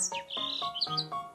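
A robin gives a run of bright, cheerful chirps in quick succession, clear and close with no background noise.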